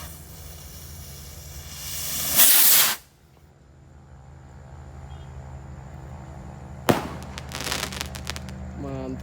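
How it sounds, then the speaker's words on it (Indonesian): A jumbo Roman Candle firework going off, with a loud fizzing, sputtering hiss that swells for about a second, then a sharp burst of crackling pops after a lull, set outdoors against a steady low hum. "ini selanjutnya kita nyalakan mercon roket Roman Candle Jumbo"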